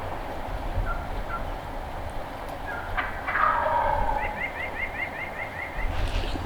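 A wild turkey gobbler gobbles from down a hillside on public land during a spring hunt: a couple of rattling, distant gobble bursts rise over steady outdoor background noise.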